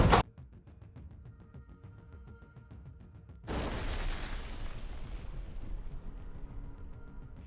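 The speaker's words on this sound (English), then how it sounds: "Russian artillery sent a gift to the 2 Ukrainian soldiers hiding, a huge explosion." A huge Russian artillery shell explosion on a wooded front line: a sharp burst followed by a sustained, loud broadband roar that rolls on for several seconds over a steady low rumble.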